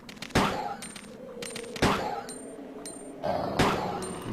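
In Resident Evil 2, Ada's gun fires three sharp shots at attacking dogs, spaced about a second and a half apart, each with a ringing metallic tail over a low rumbling background.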